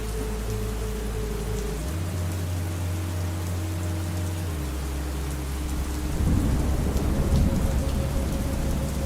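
Steady, dense rain pours without a break while deep thunder rumbles low beneath it, growing heavier and louder toward the end.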